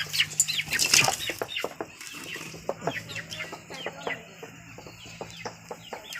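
A chicken flaps its wings in a loud burst near the start, then keeps clucking in short repeated calls close by, with some background activity and faint voices.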